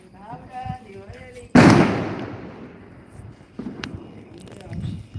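A single loud firecracker bang bursts out at midnight Diwali celebrations in Karad city, decaying into a rumbling echo, with people talking softly before and after it.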